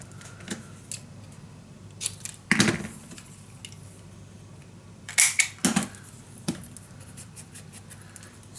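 Scissors cutting scrapbook paper: several separate crisp snips and slicing strokes, close and fairly clear, with two louder clusters of cuts among quieter paper handling and rustling.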